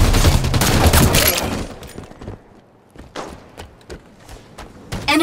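Gunfire in Halo 5 Arena Strongholds on the Stasis map: a dense, loud fusillade of rapid shots for over a second, then scattered sharper single shots after a brief lull.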